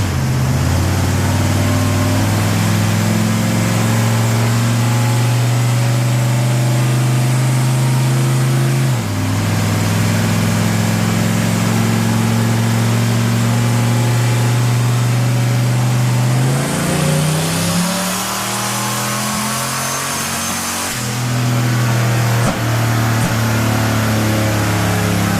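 A big-turbo Mustang engine on a dyno holds steady high revs for long stretches, dropping briefly and climbing back up twice, droning close by without any voices.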